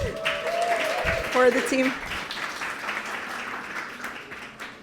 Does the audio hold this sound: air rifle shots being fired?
no